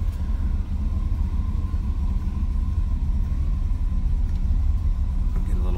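A steady, loud low engine rumble from an idling 1982 Chevrolet C10 pickup with a 305 V8, continuous throughout with no talking.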